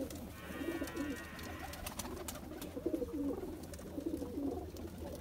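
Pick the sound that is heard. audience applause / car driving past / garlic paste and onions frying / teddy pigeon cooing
teddy pigeon cooing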